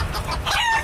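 Chickens clucking and squawking loudly up close in a short burst, agitated calls with sharp high cackles, no talking heard.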